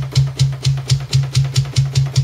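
Kick drum from a metal drum mix, unprocessed, thumping alone in a steady run of about ten even beats, with faint bright hits ringing above each stroke.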